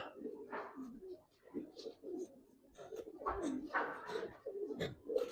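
A pair of Giribaz pigeons coos in repeated low throaty bursts, close to the mic, with people talking over and between the calls.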